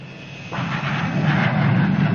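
A Grumman A-6E Intruder jet aircraft roars steadily, its engine noise swelling in after a quieter start into a broad, sustained rumble and hiss that grows louder toward the end.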